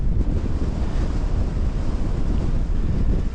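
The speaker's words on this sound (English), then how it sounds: "the wind up here is quite strong, if you can hear it." Strong wind on an exposed hilltop in the Scottish Borders roars and buffets the microphone continuously, a dense low rumble with no pauses and no voices.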